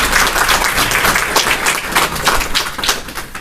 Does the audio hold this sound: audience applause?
yes